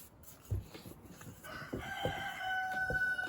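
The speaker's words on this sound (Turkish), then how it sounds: "Komşunun horozları ötmeye başladı yine." A rooster crows at a distance, its long wavering call rising over faint background clatter and a few soft thumps nearby.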